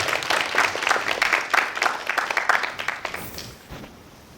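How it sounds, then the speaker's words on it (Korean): An audience at a talk applauds to welcome a speaker before a pan flute performance, a dense round of clapping that tapers off over about four seconds. "박수로 모시겠습니다."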